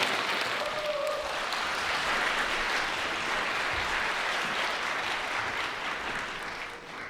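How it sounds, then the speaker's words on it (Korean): Wedding guests at a ceremony in the Conrad Seoul hotel break into sustained, dense applause that fills the hall at a steady level throughout, easing slightly toward the end, with no talking. "큰 박수 부탁드립니다."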